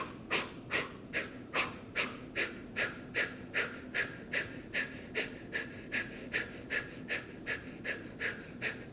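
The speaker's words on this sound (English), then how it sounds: "take a nice deep breath in and concentrate on throwing out your exhale like a dart" A person in a guided meditation session breathes in deeply and pushes out sharp, forceful exhales, nearly twenty evenly spaced breaths, close and steady with no talking.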